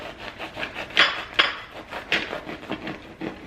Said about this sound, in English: A serrated knife, bring it all the way to the end.